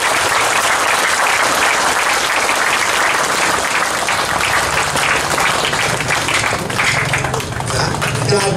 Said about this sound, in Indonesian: ulang sekali lagi push tepuk tangannya supaya berbunyi